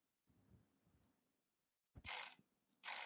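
Two short, bright whirring bursts from a loc merging machine working on dreadlocks, alone after a faint low rumble, the second burst starting just before the end.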